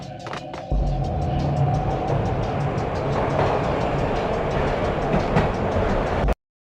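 Train rolling on rails in the video game Max Payne, a loud continuous rumble with rhythmic clickety-clack of wheels over rail joints, starting after a short lead-in and cutting off abruptly at the end.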